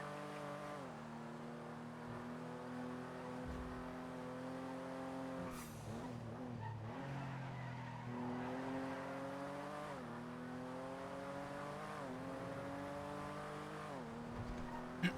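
A Premier car in GTA V NoPixel drives in 8th gear, its engine droning steadily with periodic rising pitch sweeps as it pulls and shifts, continuous and without talk.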